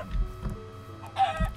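A chicken clucking in the video game Modded Minecraft, heard as a few soft, faint clucks against quiet game ambience, with no one talking.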